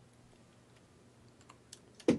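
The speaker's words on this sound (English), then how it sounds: "I'm typing in one thing" Several soft, sparse keystrokes tap on a computer keyboard, quiet and scattered, ending in a louder sharp click.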